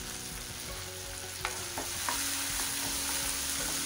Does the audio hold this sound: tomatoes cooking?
yes